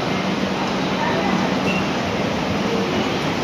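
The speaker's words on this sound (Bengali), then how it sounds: "সামনে আমাদের ট্রেন পদাতিক এক্সপ্রেস ঢুকছে" Padatik Express train entering a platform at Sealdah station in Kolkata, a dense, steady broadband roar of the approaching train mixed with station noise, loud and continuous throughout.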